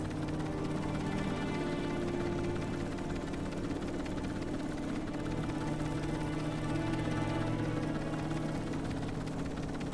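Steady, continuous helicopter engine and rotor drone in the Stormworks building game, a dense even hum that stays constant with no talk.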